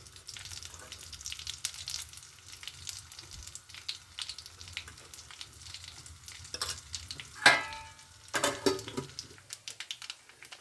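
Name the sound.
mustard seeds, dried chillies and turmeric sizzling in hot oil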